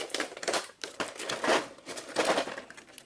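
Packaging tape and wrapping crinkle and tear close by in several rough bursts as a taped Deep Madness board game box is pulled open.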